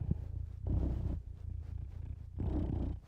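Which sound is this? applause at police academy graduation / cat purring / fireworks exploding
cat purring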